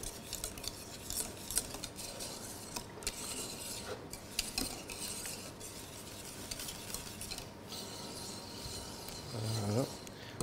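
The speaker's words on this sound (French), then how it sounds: "Je vais venir mélanger pour obtenir un produit lisse" Chocolate glaze being stirred until smooth, a soft scraping and clinking of a utensil against a bowl running steadily throughout, fairly faint and close, with no voices.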